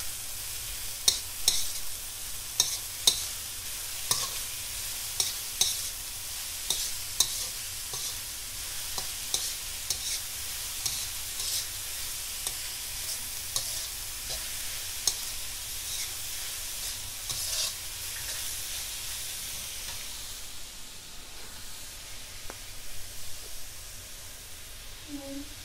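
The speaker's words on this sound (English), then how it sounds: "Give it a quick stir." Vegetable filling for momos sizzles steadily in a hot pan while a spoon stirs it, with repeated sharp scraping knocks over a constant frying hiss that fades slightly near the end.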